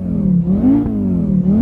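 An Audi five-cylinder turbo engine in Assetto Corsa, fitted to an estate car, drones steadily with a gruff harmonic tone that rises and falls slightly as revs shift, loud and close with no talk over it.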